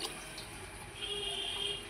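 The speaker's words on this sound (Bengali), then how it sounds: "এবার দিয়ে দেবো পরিমাণ মতন জল" Water for khichuri pours into a pot holding rice and lentils, making a soft, steady splashing trickle at close range for about two seconds.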